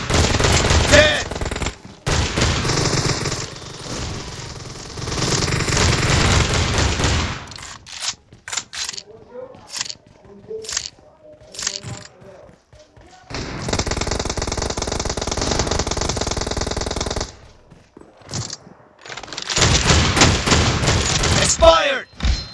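Repeated M1014 shotgun blasts in PUBG Mobile team deathmatch, with bursts of loud, closely spaced shots separated by short gaps and occasional game voice callouts.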